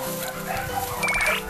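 A puppy gives a few short, high-pitched yips and barks at close range, briefly layered over light background noise.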